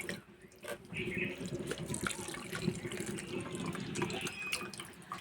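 Water pours over fresh chhena cheese curds, a steady splashing, gurgling stream that runs almost continuously from close by, faint overall and with no talk.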